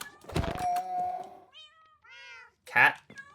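A cat meows several times in Minecraft, short rising calls close and clear, with brief speech at the start.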